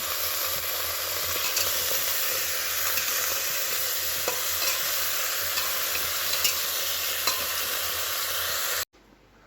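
Bottle gourd frying in oil with five-spice gives a steady, close sizzle with faint stirring clicks throughout, then cuts off abruptly near the end.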